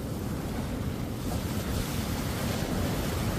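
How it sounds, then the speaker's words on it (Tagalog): Powerful sea waves surging against the shore, a dense, continuous roar of churning water with gusty wind noise on the microphone, loud and close throughout with no talk. "Grabe ang lakas, ang puwersa ng dagat no."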